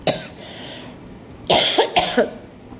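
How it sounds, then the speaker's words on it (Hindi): A man coughs mid-talk, a single harsh cough followed by a pair of quick, loud, close coughs a moment later, with no speech over them. "सॉरी खांसी हो रही"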